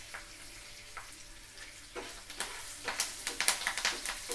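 Coconut rice tempering with curry leaves and dried red chillies frying in hot oil, a steady crackling sizzle broken by louder spitting pops that grow denser toward the end.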